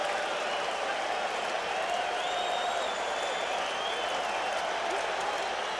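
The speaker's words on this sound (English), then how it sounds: "Crowd making the kind of noise it normally makes for Dwight Gooden." A baseball stadium crowd at the 1986 World Series Game 7 roars steadily in a dense, sustained swell of cheering and applause for a strikeout, with no break throughout.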